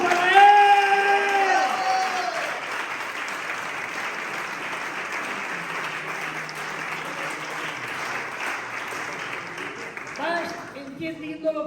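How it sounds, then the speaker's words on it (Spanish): Audience at a church Christology workshop applauding steadily for about ten seconds, loud at first and then settling into even clapping, with a brief sung or spoken voice at the start and a few voices at the end. "¡Un aplauso para Él!"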